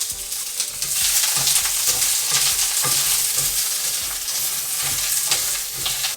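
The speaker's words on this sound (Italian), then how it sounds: "e cominciamo a mescolare." Cabbage stirred and fried in hot oil in a pan for yakisoba, with a loud continuous sizzle and frequent scraping, clattering stirs close up.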